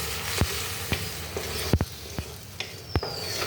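Plums cooking down in a pan for jelly, stirred with a utensil that makes sporadic soft taps and scrapes over a steady low sizzling hiss.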